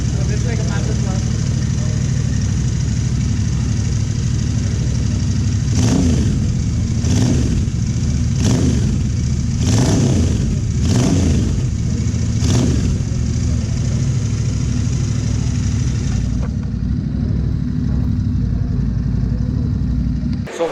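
A motorcycle fitted with an SS Moto 2x2 performance exhaust with dB killers installed idles with a deep steady rumble, then gets six quick evenly spaced blips of the throttle before settling back to idle, loud and close.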